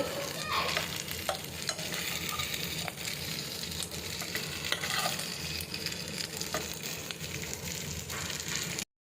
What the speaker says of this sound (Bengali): এক পাশে ভাজা হয়ে গিয়েছে দুই পাশে ভাজতে হবে